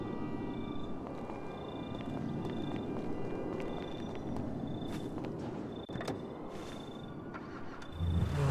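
A BMW medic vehicle spawns in a FiveM roleplay game, and its engine holds a low, steady hum under faint, repeated beeping interface tones, ending with a louder low rumble.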